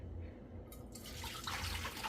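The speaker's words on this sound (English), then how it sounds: "I'm gonna go ahead and pour our mixture off over in here." Liquid mixture poured from a container over a pot roast in a slow cooker, a short steady splashing pour that swells in its second half, alone without talk.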